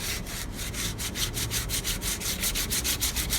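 Sandpaper, 60 grit, rasps back and forth over body filler on a bike frame in quick, even strokes, a rhythmic scratchy rubbing heard up close.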